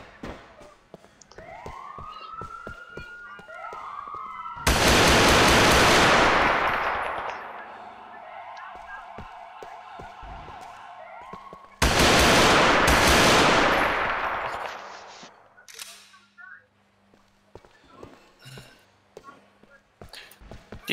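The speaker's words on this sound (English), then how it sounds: "we have automatic fire inside the tunnel" Automatic gunfire inside a tunnel in a video game police ambush, with two long, loud, sustained bursts that echo and tail off, scattered shots and other game sounds between them, and a siren-like tone near the start.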